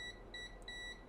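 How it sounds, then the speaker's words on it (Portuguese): A multimeter continuity tester beeps as its probe touches a capacitor on a mobile phone circuit board, giving three quiet, steady electronic tones in quick succession. "Aqui já bipa, ó, esse capacitor."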